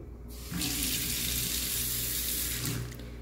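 A newly installed kitchen sink faucet over a deep basin opens into a strong, steady water jet that rushes loudly into the sink and runs continuously for about three seconds.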